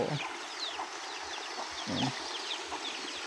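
Chickens cluck in short bursts on and off over a steady outdoor hum of birds and insects among garden crops, fairly close by.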